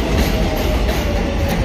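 A New York subway train moves through a Queens station at 74th Street and Roosevelt Avenue with a loud, continuous rumble and faint rhythmic clatter of wheels on rails, close by and steady.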